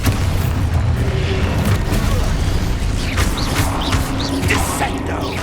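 Expulso explosion spell in Hogwarts Legacy combat: a dense, loud booming rumble with crackling bursts and debris-like clatter layered over it, continuous throughout amid other battle effects.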